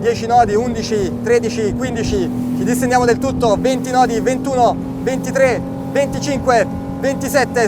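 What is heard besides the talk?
Ranieri 275 SL motorboat, single 300 hp engine roaring at speed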